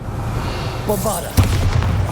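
A voice shouts out just before a Bombarda blasting spell in Hogwarts Legacy goes off with a short, loud booming burst, followed by rumbling debris.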